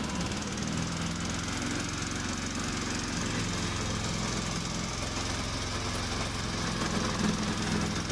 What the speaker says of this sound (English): Press this button to start the engine.